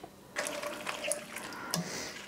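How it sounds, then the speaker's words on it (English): Cooked potatoes being stirred through an Indonesian beef stew (smoor djawa) in a pot: soft, wet sloshing and scraping that starts after a quiet moment and continues irregularly at moderate volume, with no talking. "All the potatoes are cooked and I'm now going to stir them through the stew."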